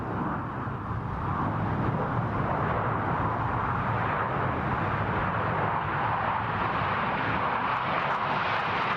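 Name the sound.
Blue Angels diamond formation jets flying past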